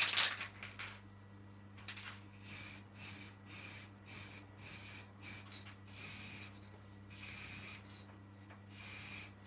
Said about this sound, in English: I'm going to put some sanding sealer on.